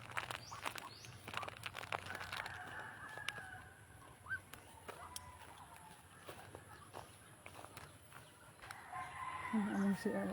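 Chickens cluck and a rooster crows on a farm while someone checks the birds. The clucks come in scattered bursts and a crow rises near the end, all against a low background. Footsteps and quiet talk can be heard.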